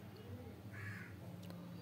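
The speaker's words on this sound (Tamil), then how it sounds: "காகம் காகம்" A single crow caws once, a short harsh call standing out over a low background hum, with a faint click near the end.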